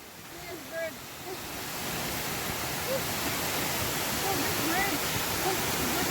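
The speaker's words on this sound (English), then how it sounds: "Waterfall!" A waterfall on a Deep Creek hike gives off a steady, broad roar of rushing water that builds and then holds, with faint voices heard beneath it.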